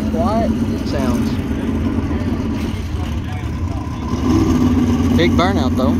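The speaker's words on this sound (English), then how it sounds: "Big burnout though." A drag racing car at an outlaw pro-mod event at Edgewater holds a steady engine roar through a burnout, a continuous loud drone under overlapping chatter from people nearby.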